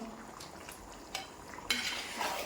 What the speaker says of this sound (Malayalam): അപ്പം നമുക്കിത് ഇളക്കി കൊടുക്കാം.